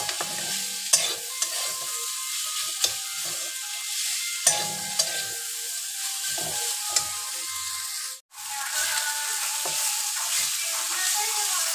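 Banana stem fries in a pan while being stirred, giving a steady close sizzle broken by repeated scraping clicks of the utensil and one brief drop-out near the end.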